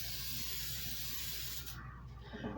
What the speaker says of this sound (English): Just lightly spray it.